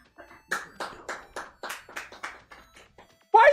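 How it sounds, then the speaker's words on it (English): Hands clapping in a room, about a dozen separate claps in an uneven rhythm, close and moderately loud, before a voice starts at the end. "Why are you clapping?"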